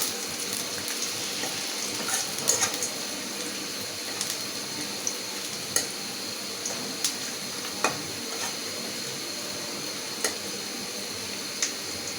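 Onions fry in a pan with bay leaves and whole garam masala, giving a steady sizzling hiss broken by regular sharp clicks of a spoon stirring against the metal.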